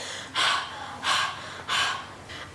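A child panting after hopping up and down, three heavy, breathy exhalations spaced evenly and heard up close, with no talking.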